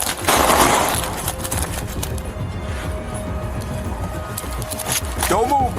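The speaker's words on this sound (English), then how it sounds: "Shots fired, guys. Shots fired." Gunfire erupts during a police encounter, a sharp burst of loud shots near the start, followed by shouting voices and commotion over continuing noise.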